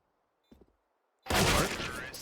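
Sudden loud burst of gunfire in a Counter-Strike duel on the Nuke map, a close rifle volley following a faint brief tap, dense and sustained for about a second.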